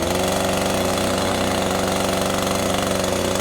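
An Echo CS-3510 chainsaw engine runs steadily at idle, a loud, close, continuous two-stroke buzz with a fast even pulse and no talking.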